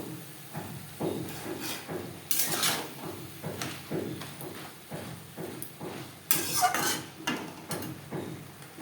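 A spatula scrapes and knocks against a pan as chichinga (snake gourd) is stirred over a high gas flame, with irregular clinks and scuffs repeating every second or so, close but quiet.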